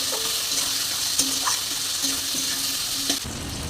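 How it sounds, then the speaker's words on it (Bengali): Onion with slit green chillies frying in a pan, a steady loud sizzle with a few brief utensil scrapes and taps, ending in a short knock, and no speech. "তো পেঁয়াজ লঙ্কাটা আমার ভাজা হয়ে গেছে"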